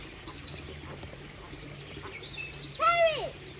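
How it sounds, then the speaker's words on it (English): A parrot gives a short, loud rising-and-falling call near the end, heard over a quiet nature park background with low murmurs. "Parrot!"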